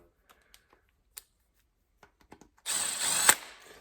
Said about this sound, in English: I'm gonna put these tensioner bolts back in here for now.